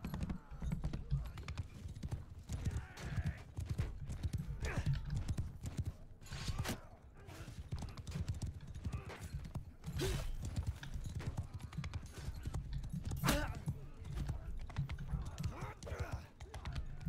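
Horse hooves clip-clopping in the medieval combat game Mount & Blade II: Bannerlord, a steady galloping patter running under ongoing game noise and someone talking over it.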